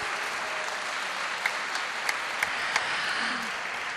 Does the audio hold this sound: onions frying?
no